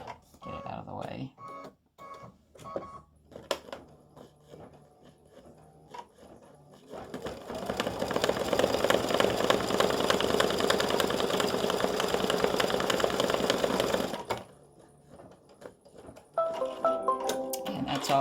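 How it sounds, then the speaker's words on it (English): An embroidery machine runs fast triple stitching through card stock, a steady, dense mechanical whirr that holds for about seven seconds in the middle, with a person talking before and after it. "this is a real fast stitching. It also is a triple stitch"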